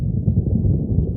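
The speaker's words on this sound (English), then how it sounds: "Oh, I hear thunder." Low, steady rumbling of thunder rolls continuously, a deep muffled roar with no voices over it.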